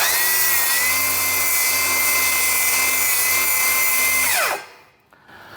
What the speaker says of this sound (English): Now I'm going to take my circular saw and I'm going to start cutting this.